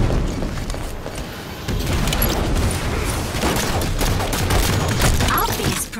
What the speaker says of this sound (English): Grenade on the way